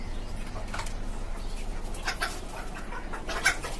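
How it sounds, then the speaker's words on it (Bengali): Desi chickens on a five-storey rooftop farm cluck faintly and intermittently against a steady background hum, with a few brief, slightly louder calls near the end. "এটা হচ্ছে আমার পাঁচতলা ছাদের উপর আমার একটা শখের খামার, দেশি মুরগির খামার।"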